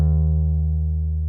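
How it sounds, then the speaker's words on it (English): A Scarbee Pre Bass sampled bass plays a half hammer-on, a sustained low note that slides subtly upward as it rings and slowly fades, heard alone. "If I play a half hammer-on"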